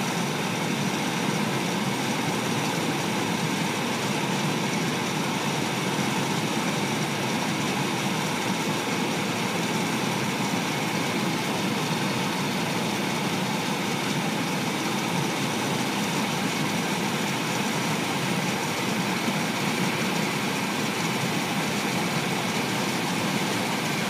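A 2005 Chevy Astro van with a 4.3 engine idles steadily and continuously, a dense, even rumble with no talk over it.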